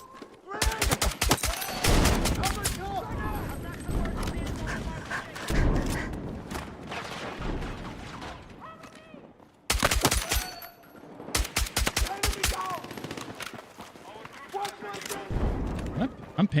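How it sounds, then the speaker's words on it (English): In a video game, a sniper-style weapon (SVDM) fires in panicked bursts of rapid, loud shots. Dense flurries of gunfire are separated by short lulls, with one near-silent break before the shooting resumes. "I'm panic shooting. That's what I'm doing. Panic shots."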